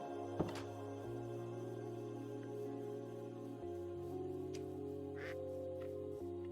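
Ducks quacking in a modded Minecraft world (FTB modpack), with a short sharp quack near the start and then layered, sustained tonal calls that shift in pitch over a steady game background.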